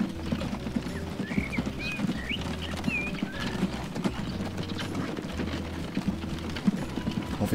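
Horse hooves clip-clop at a steady trotting rhythm during a ride in the Transport Fever Wild West America campaign, with a looping musical bass line and chirping birds in the background.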